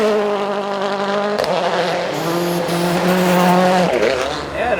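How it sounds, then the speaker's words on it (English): An M-Sport Ford World Rally car is tested in wet Rally GB conditions, its engine revving loud and close with rising and falling pitch through gear changes, sounding harsh and buzzing throughout. "the M Sport Ford World Rally team as Ott Tanak and Elfyn Evans put the car through its paces in typical Rally GB weather conditions"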